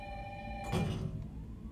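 A telephone rings inside the Resident Evil 3 video game, a single loud electronic burst of ringing standing out over a steady backdrop of game music and ambience.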